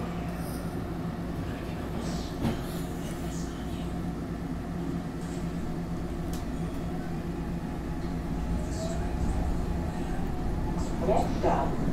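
A SEPTA Frankford Line subway train rolls between stations, giving a steady low rumble and hum with faint metallic squeals and a rising whine near the end, continuous and close throughout.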